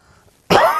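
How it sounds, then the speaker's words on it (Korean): A single sharp, loud cough bursts out after a stretch of near silence, from a presenter on a Korean stock-market TV broadcast who is fighting a cold. "죄송합니다. 기침,"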